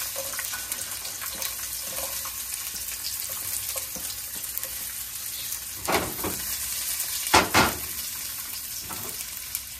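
Onion frying in hot oil in a home kitchen pan, a steady broadband sizzle with faint crackles throughout, swelling with a couple of louder bursts of spattering near the end; no talking.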